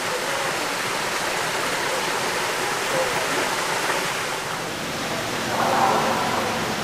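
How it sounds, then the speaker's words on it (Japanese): A mountain stream at Sumatakyo gorge rushes steadily over rocks, a continuous bright hiss of nearby flowing water with no pauses. "渓流の水音"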